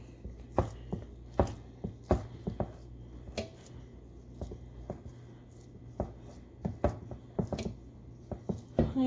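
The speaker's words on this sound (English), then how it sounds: "Just use the spoon. You don't have to touch it to smooth it on down." A spoon smooths raw meatloaf mixture down in a pan, producing a series of sharp scraping taps and soft squishy strokes in irregular rhythm, close and fairly loud, with no talking.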